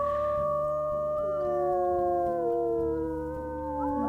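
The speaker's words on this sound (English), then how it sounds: "We need to do a howl." Wolf pack howling in the WolfQuest video game, several long overlapping tonal howls that slide in pitch, layered and sustained for several seconds, with no talk over them.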